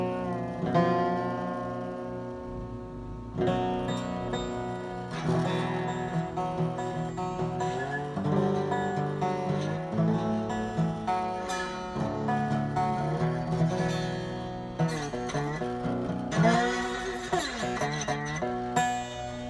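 Slide guitar on three thick strings in an open tuning plays a slow, minor-sounding passage of sustained, gliding notes with pitch bends and a few pauses, with no talking.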